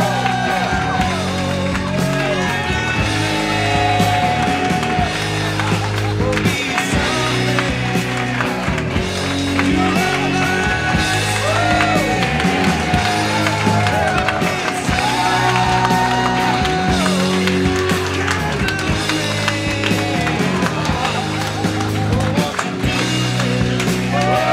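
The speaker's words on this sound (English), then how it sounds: "Ladies and gentlemen, clap it up for Eli Sairs" A comedy roast battle crowd applauding and cheering as the undisputed champion is introduced, sustained clapping with shouts and whoops from the audience, under music and a host's voice.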